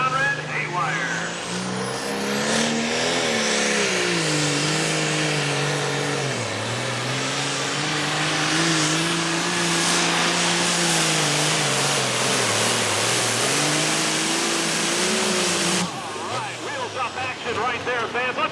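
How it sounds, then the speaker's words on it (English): A pulling tractor at a summer pull in Langford, New York roars down the track, its engine revving loud and steady with rising and falling pitch, while an announcer talks over the PA. "first tractor of 2023. As he makes his way down the track, Matt Conrad, Haywire."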